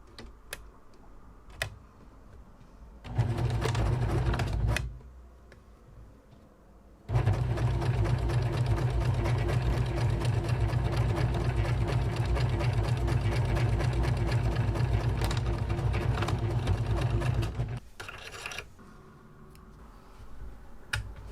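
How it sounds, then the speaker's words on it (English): A sewing machine stitches a folded fabric strip for a cat's bowtie, running in a long steady whirring, rattling burst after a shorter earlier run, with brief pauses between and no talking. "I'm just going to fold this in half and sew it quickly on the machine."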